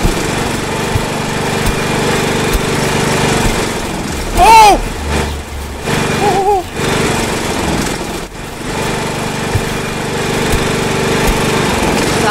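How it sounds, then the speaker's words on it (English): In the Death Tractor video game, a big tractor engine drones loudly and steadily throughout, with a few brief surges and squeals midway while players talk excitedly over it. "You got a big tractor."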